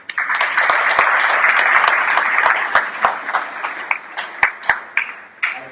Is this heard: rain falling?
no